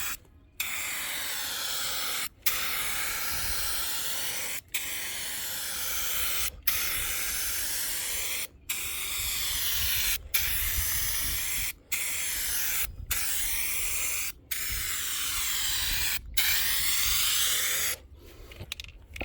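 Rust-Oleum gray primer hissing from a turbo spray can in a series of steady, loud bursts, each lasting about two seconds and separated by brief pauses, with a broad airy rush and no talking.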